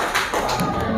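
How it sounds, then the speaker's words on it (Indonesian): A classroom audience briefly claps for quiz winners, a short burst of scattered hand claps lasting about a second. "beri tepuk tangan buat Rega"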